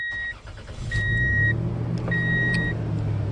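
The V6 engine of a lawn care truck with about 300,000 miles idles with a low, steady rumble and rises slightly as it revs. Several short high electronic beeps sound at intervals over it.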